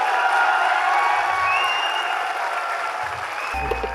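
A large audience at a company's 21st anniversary celebration bursts into dense, sustained applause with scattered cheers and whoops. The clapping stays loud and steady throughout, with a slight dip near the end.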